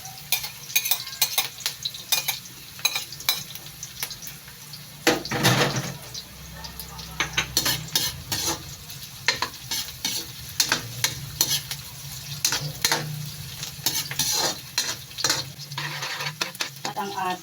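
Garlic fries in a pan for chicken feet adobo, a close, steady sizzle broken by frequent stirring scrapes and clinks of a utensil against the pan.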